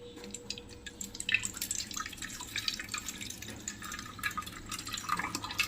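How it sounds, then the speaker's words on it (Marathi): Washing water strained off homemade butter, a close trickle with many irregular drips and small splashes continuing steadily, no voices. "हे जे पाणी साईडला झालेलं आहे ते पूर्ण मी असं गाळून घेते"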